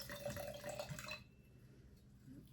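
Red wine, a red blend, poured into a glass: a steady liquid trickle for just over a second, close and fairly quiet, then it stops and leaves faint room noise.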